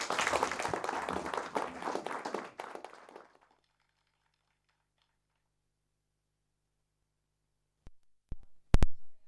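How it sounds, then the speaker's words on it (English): An audience at a poetry gala gives a round of applause for the poets, a brief burst of clapping that fades out after a few seconds into near silence, followed by a few sharp knocks. "Please give them a warm round of applause."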